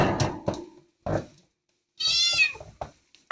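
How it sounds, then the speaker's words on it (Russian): A kitten that was shot with an air gun and is being treated by vets in Perm meows twice, close and loud, with a longer, strained cry after a pause and a few soft rustles between. "Сергей Шахторин вместе с пермскими ветеринарами взялись за спасение котенка"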